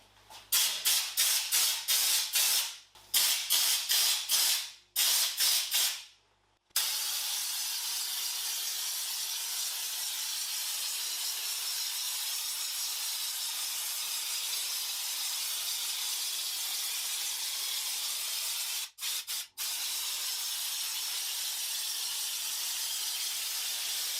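Spray painting parts during a Mazda RX-7 FD3S restoration: several short hissing bursts from a spray gun, then one long steady hiss that runs on for many seconds, broken by two quick gaps near the end.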